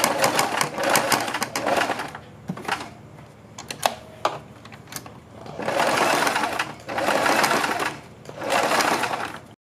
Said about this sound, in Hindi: यहाँ से थोड़ा नीचे से हम सिलाई लगानी शुरू करेंगे और यहाँ तक सिलाई लगाएंगे